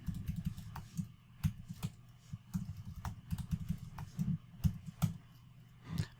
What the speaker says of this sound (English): And then we'll type in our password.